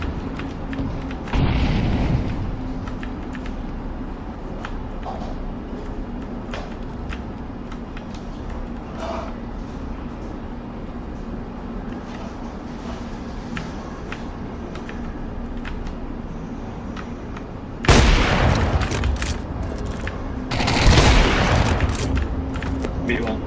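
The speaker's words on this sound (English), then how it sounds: "Throwing a grenade." Grenade explosions and gunfire in the video game Counter-Strike 2, loud booming blasts near the start and again toward the end, with scattered gunshots and game noise between and voices talking over it.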